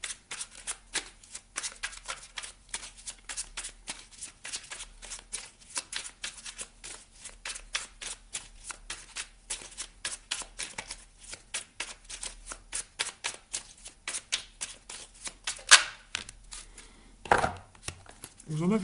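Merlin oracle cards being shuffled by hand, a long run of fast, crisp riffling flicks close up with no talk over them.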